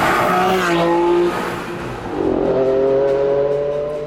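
A Ferrari Enzo's engine revs hard close by, a loud rising howl that dips between gear changes and then climbs again in a second strong pull.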